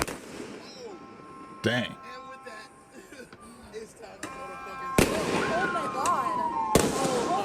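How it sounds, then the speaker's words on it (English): Bottle rockets fired in a downtown Los Angeles street, with sharp bursts, whistling trails and pops at close to medium range, scattered irregularly over several seconds amid crowd noise and people talking. "They shooting bottle rockets at people."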